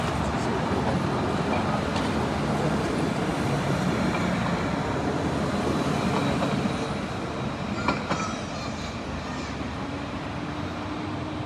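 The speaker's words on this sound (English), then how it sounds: "is tram T3 leaving," A Lyon T3 tram pulls away with a steady, loud rolling rumble of wheels on rails, a brief squeal rising near the end, and no voices clearly heard.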